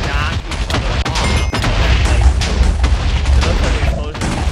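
Explosions in the video game Minecraft: a continuous barrage of booming, crackling blasts, loud and close, rolling on with no pause.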